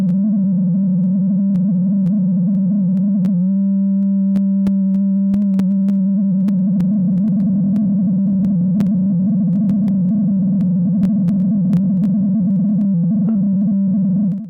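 A loud, steady sine-wave tone from a VCV Rack software synthesizer hums low and pure, with faint clicks and brief pitch shifts, then cuts off at the end.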